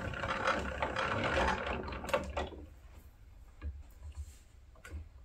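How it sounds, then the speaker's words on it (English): A yarn ball winder winds a yarn cake of Schoppel Das Paar yarn, giving a soft steady mechanical whir with faint ticking that is fuller at first, then thins to quieter intermittent clicks. "after I finish winding my first cake, I can take it off my ball winder"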